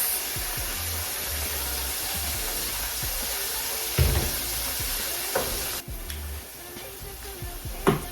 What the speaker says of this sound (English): So we still have the garlic sauteing.